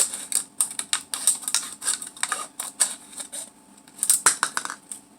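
Scissors snip and crunch through a stiff plastic water bottle in quick, irregular cuts close by, cutting it into rings, with crackling and clicking and no one talking.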